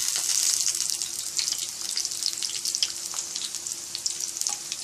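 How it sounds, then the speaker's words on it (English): Potatoes frying in a pan for a red spinach dish, a dense crackling sizzle with a faint steady hum underneath, fairly quiet and continuous. "So here our potatoes are fried"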